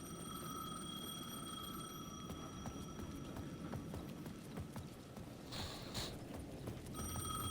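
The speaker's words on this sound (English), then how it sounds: "The payphone at the edge of the plaza was ringing again." A payphone rings in Alan Wake 2, a faint, steady electronic tone held for several seconds, cutting out briefly and then returning, under footsteps and a low ambient rumble.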